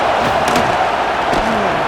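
Stadium crowd roar inside the College Football 26 video game, a steady dense wash of cheering and noise filling the whole stretch at constant loudness, with faint voices blended in.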